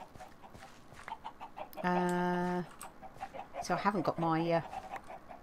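Chickens cluck and squawk in breeding pens in the block-building game Minecraft Sky Factory 3, with two loud drawn-out calls and clucks mixed around a person talking casually.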